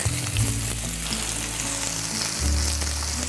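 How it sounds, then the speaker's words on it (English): Potatoes sauté in hot oil in a very hot skillet for a Southwest sausage hash, giving a steady close sizzle and crackle that swells briefly near the end, with no one talking. "we're just going to saute them for about 7 minutes, just until they're golden"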